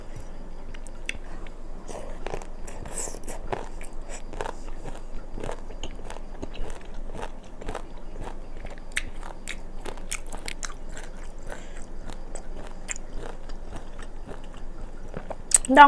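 Pickled fruit such as tamarind, mango, grape and lime being bitten and chewed close up, with repeated crisp crunchy bites and moist chewing in an irregular rhythm throughout.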